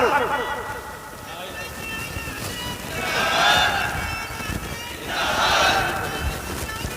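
A large crowd at a religious sermon roars and chants slogans in two swelling bursts, loud and reverberant, with a voice speaking over the noise between them.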